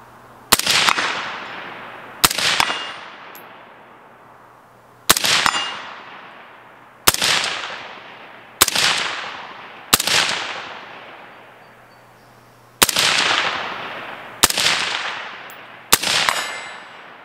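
Suppressed Palmetto State Jakl rifle fired at a steel target outdoors: nine shots at uneven intervals, each a sharp crack with a ringing metallic clang that rings out and fades over a second or two, no talking.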